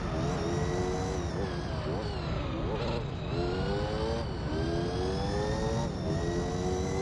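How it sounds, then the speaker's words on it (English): Racing car in Gran Turismo 3, its engine revving hard in a loud, continuous whine that climbs and dips repeatedly with gear changes and throttle lifts, close and dominant. "Sounds like a Formula 1 car without any bass."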